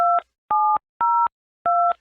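Four crisp DTMF keypad tones as a telephone number is dialed, each short, loud, clean dual-pitch beep separated by silent gaps, heard alone without any talk.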